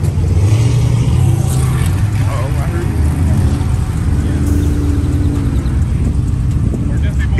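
A Lamborghini Urus SUV engine rumbles loudly and steadily, rising slightly as it approaches, with a voice talking over the noise.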